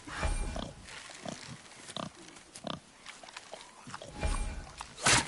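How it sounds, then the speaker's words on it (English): Grunting wild boar in the God of War video game, several short rough grunts spread across the stretch over background game ambience, with a louder burst near the end. "Wild boar's hide is thick."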